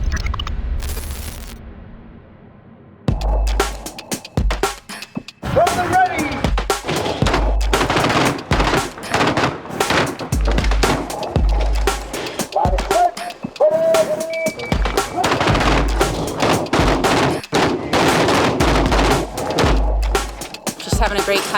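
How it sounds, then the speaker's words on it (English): Volleys of rapid gunfire and heavier booming shots, shotgun among the weapons, ring out at an outdoor shooting session, loud and near with dense overlapping bursts after a quieter opening, voices talking between shots. "Having a great time out shooting, finally."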